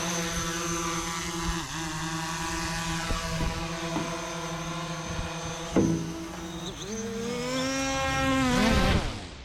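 The motors of a TripleFine TF15 EX 4K drone hum continuously at close range, their pitch shifting and rising as it lifts off and flies, building to a loud whine near the end.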